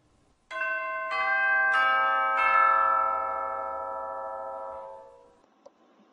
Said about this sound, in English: Those are called chimes.